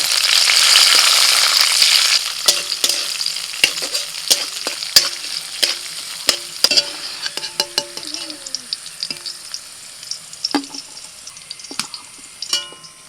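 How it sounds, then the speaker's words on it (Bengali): Cashews and raisins frying in white oil in a wok give a loud, close sizzle at first that gradually fades, overlaid with repeated sharp clinks and scrapes of a spatula stirring against the metal pan. "কড়াইতে সাদা তেল দিয়েছি, এখন কাজু আর কিশমিশ ভেজে নেব।"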